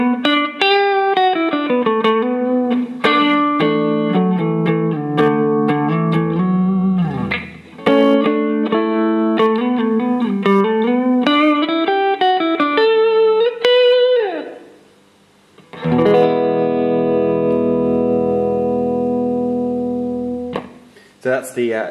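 An electric guitar played on its neck pickup through a Fender Twin amp rings out clean, loud and close in runs of picked notes, brief gaps, then a sustained strummed chord left to ring and decay.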